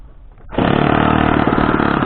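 A model RC airplane engine fired with an electric starter catches abruptly and settles into a loud, steady, high-pitched buzzing whine close by, running continuously with no talk.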